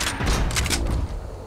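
Rapid gunfire at a supply crate in Fortnite, a dense burst of shots packed into a brief, loud spell that tails off quickly.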